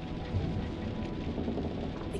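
Steady rain and low storm rumble from a thunderstorm in the horror video game Man of Medan, a continuous dense wash of sound with no voices and no distinct thunderclap standing out.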